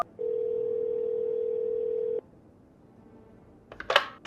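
A video game telephone gives a steady dial tone for about two seconds, then after a pause a quick burst of touch-tone dialing beeps, clear and close with no talk.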